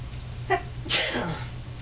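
A single sharp sneeze, preceded by a brief intake of breath, close by in a quiet room.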